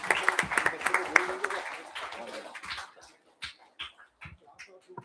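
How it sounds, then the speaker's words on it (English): Applause for Team JF09 at a school design thinking presentation event; a brief burst of clapping fades within a few seconds, followed by scattered claps and faint voices. "Can we have a huge round of applause for Team JF09?"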